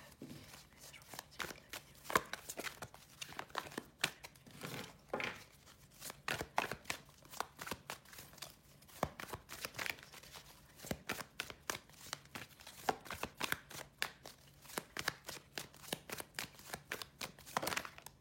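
Tarot cards are shuffled by hand with repeated quick riffling and slapping sounds, close and fairly quiet, in steady bursts across the whole stretch with no talking.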